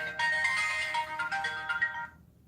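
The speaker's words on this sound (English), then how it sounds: "that was quite the boot up sound there" A short bright electronic chime melody, a Galaxy S9 smartphone boot-up sound, plays once, clear and close, fading out after about two seconds with no talking.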